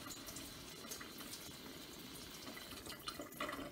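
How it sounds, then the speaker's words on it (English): Cool water runs steadily over chickpeas in a strainer, a continuous soft rushing spray with light splashing, close and fairly quiet throughout. "With cool water, gently rinse the chickpeas so that you're removing all of the extra sodium"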